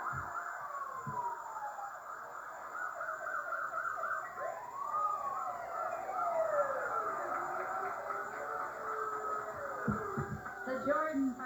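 A fire engine siren sounds in a 1991 exhibition parade in Shelburne, its wailing tone rising and falling over street noise and crowd chatter, with a second siren sweeping in near the end.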